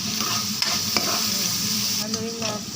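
Squid sizzles steadily in a hot pan while a utensil stirs it, giving a constant crackling hiss broken by a few sharp scrapes and clanks.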